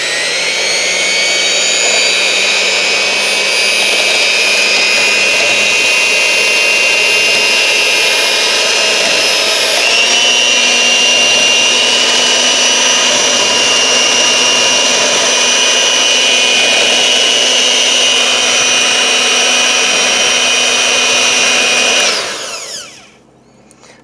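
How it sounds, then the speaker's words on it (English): A blender runs on low for about twenty seconds, mixing keto bulletproof coffee with butter in a loud, steady whirring drone with a slight pitch shift midway, then winds down and stops. "it says to go in your blender about 30 seconds"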